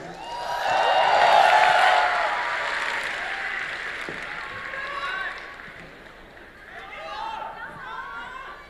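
An audience claps and cheers for crosstalk performers Zhang Helun and Lang Heyan at a Deyunshe show. The applause swells early, then thins into murmurs and a smaller second wave, with voices mixed in.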